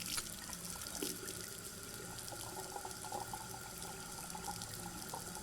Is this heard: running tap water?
yes